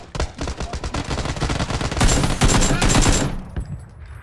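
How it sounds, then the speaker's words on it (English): Rapid automatic gunfire in PUBG on Xbox, a loud, dense, continuous burst of shots close by that stops abruptly near the end, with no talk. "Being shot by someone else too."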